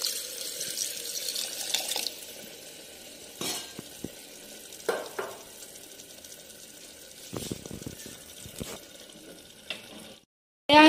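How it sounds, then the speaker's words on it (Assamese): Hot water is poured into a pot of mutton curry. The pour gives a hissing, splashing rush and sizzle, followed by a few scattered clinks and stirring noises. A sharp loud sound cuts in at the very end. "আমি গৰম পানী এড কৰিম"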